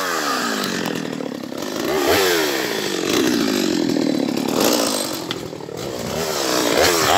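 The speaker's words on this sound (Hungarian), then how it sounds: "Vedd el a kis fűrészt, na." A small chainsaw cutting through wood outdoors in the wild, its engine droning steadily with rising and falling load as the chain bites, close and loud throughout with no talk.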